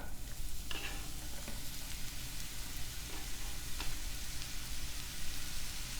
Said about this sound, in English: Sauté for a few minutes, sprinkle in some salt